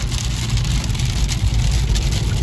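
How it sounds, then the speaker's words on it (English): Heavy thunderstorm rain pours down in Fort Worth, a loud, dense, continuous hiss and patter close by with no talking. "Boy, that rain's picking up big time too."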